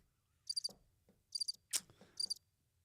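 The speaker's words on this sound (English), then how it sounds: "it keeps firing off the crickets" A soundboard button plays a cricket chirping sound effect: three short bursts of high, rapid chirps separated by quiet gaps, fairly faint, with a few soft bumps and clicks in between.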